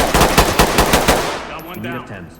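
A rapid automatic burst of about five or six loud, close gunshots in the SWAT tactical shooter game Ready or Not, evenly spaced, then ringing off into a fading tail, with no talking.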